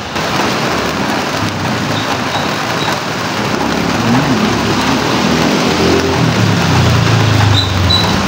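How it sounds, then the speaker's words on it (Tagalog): Heavy rain pouring steadily outdoors, a loud continuous wash of noise that stays dense from start to finish with a low rumble underneath. "Ulan talaga, nakakaano pa din yan."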